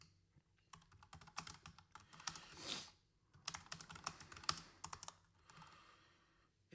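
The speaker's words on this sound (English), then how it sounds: "I'm typing it so you guys can just write it down" Bursts of typing on a computer keyboard, with quick clustered keystrokes broken by short pauses, close and fairly quiet in a quiet room with no talking.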